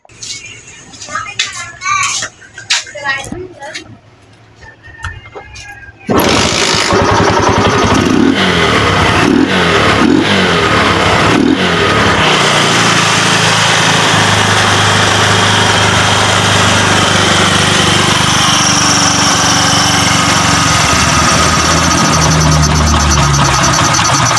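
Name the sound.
motorcycle engine starting and running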